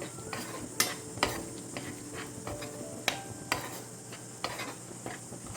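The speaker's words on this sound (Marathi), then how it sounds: "आता ह्यामध्ये घालूया चवीप्रमाणे मीठ सर्व चांगला मिक्स करून घेऊया" Egg masala gravy being stirred in a pan after salt is added, with a soft background sizzle and several sharp spoon taps against the pan at irregular intervals, no talking.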